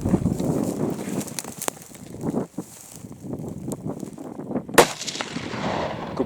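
Rifle shots during a red deer roar hunt in Molesworth, a few sharp cracks over outdoor ambience and soft movement, with one loud report standing out near the end.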